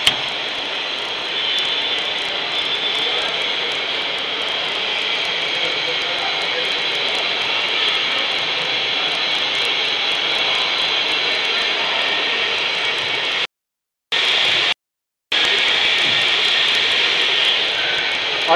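An electric motor runs steadily in a workshop setting, held by a direct-current magnetic braking field, giving a continuous broadband whir with brief cutouts near the end; speech is mixed in underneath.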